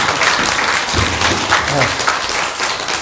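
An audience at a Buddhist temple Dharma talk applauds with loud, continuous, dense clapping throughout, close and filling the room.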